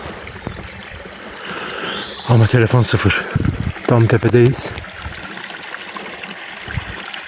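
A small stream flows through wooded mountain land, a steady soft wash of trickling water running the whole time beneath someone talking.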